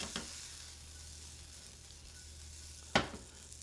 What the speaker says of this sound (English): we're going to toss the asparagus into that shallot